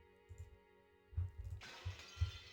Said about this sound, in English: Glass shatter noise.